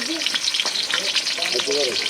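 Onion and garlic frying in a wok, a steady close sizzle with bright crackle throughout and a few scraping stirs, no voices.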